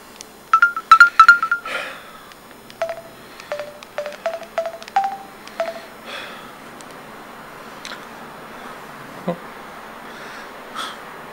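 A telephone is dialed in a comedy sketch with a short run of bright keypad tones, followed by spaced ring tones that fade to sparse faint clicks and quiet room noise.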